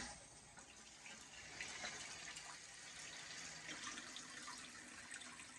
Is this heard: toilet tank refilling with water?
yes